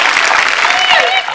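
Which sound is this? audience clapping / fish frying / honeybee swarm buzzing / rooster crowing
audience clapping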